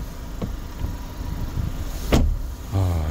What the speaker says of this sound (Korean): 아주 탱크를 닫는다 그런 소리가 들죠